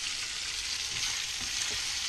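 Pasta and guanciale sizzle in a frying pan with no added oil, a steady close hiss of frying with a few soft stirring scrapes and no voices.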